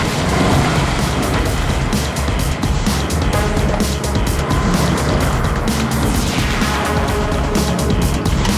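A professional driver's first trial run in a car at a bull run event, with a loud, continuous engine roar and rushing noise that never lets up, close to the listener.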